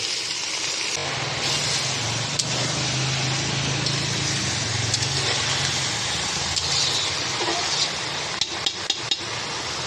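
Food being stirred in a cooking pan over steady broadband sizzle and hiss, with a low hum underneath and a few sharp utensil taps against the pan near the end.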